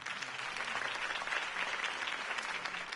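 Crowd applause in the Telltale Batman video game, a steady wash of many hands clapping after a campaign speech, filling the whole moment without pause.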